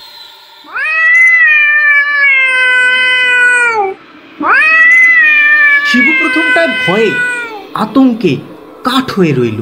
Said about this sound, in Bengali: একটা মিশ কালো বিড়াল বাঁশঝাড়ের ভিতরে বসে ওরকম শব্দ করে ডাকছে